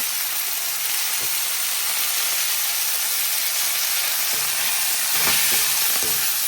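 Onions, ginger and garlic shoots fry in a pan for fish curry, giving a steady, close sizzle and hiss throughout with faint scraping stirs.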